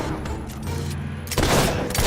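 A gunshot burst rings out in the video game Fable 3, a loud close blast partway through that follows a busy stretch of game background noise, with no voices.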